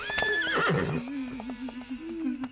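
A horse gives a loud, close whinny that rises and then falls away, followed by lower snorting and breathy sounds with a few hoof clops, in a lively animated scene.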